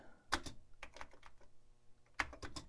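Computer keyboard typing in two short bursts of several clacking keystrokes each, near and fairly quiet, with a pause of lighter scattered taps between them and no talking.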